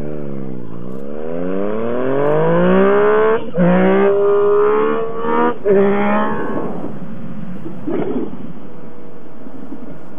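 A Yamaha FZ9 motorcycle accelerating hard into a wheelie: the engine note climbs steadily in pitch, drops briefly at gear changes and climbs again, loud and close with no talking.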